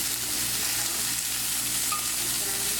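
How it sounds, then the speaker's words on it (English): Wagyu beef searing in a hot pan, giving a steady, close, even sizzle and crackle that holds at the same level throughout with no talk over it. "You're looking for that sear on the outside, right?"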